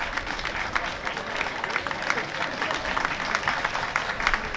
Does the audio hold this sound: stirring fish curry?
no